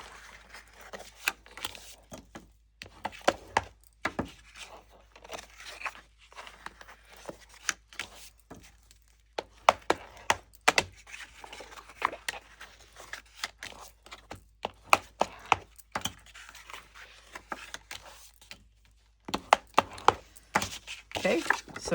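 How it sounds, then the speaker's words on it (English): Paper pages of a handmade folio are burnished to loosen the fibers, making close, dry rubbing and scraping strokes with sharp taps and pauses scattered throughout. "turn it over and we're going to burnish it the other way also to loosen up those fibers"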